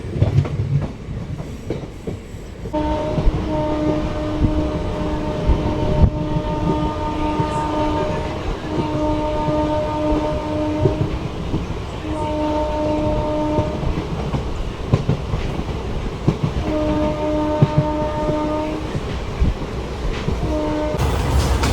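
India's first hydrogen train, running from Sonipat to Jind, rumbles and rattles heavily from onboard, with a series of steady tonal blasts repeating over the clatter.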